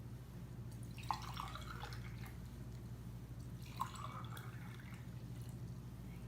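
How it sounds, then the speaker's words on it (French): Water being poured into coloured containers for a simple classroom demonstration, two short pours a few seconds apart with trickling and dripping over a faint steady hum, with no talking. "Je vais verser de l'eau dans les récipients en couleur."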